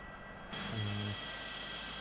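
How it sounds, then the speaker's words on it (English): An airliner taxiing to an airport gate in Flight Simulator X gives a steady low engine hum, swelling briefly into a louder tonal drone before settling back, with no talk. "I'm taxiing to a gate now."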